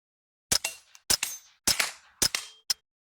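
Integrally suppressed Angstadt Arms Vanquish 22 rifle, a suppressed 10/22, fired at steel targets: five sharp muffled shots at uneven intervals, each followed by a quick metallic ring of the steel, with no talking.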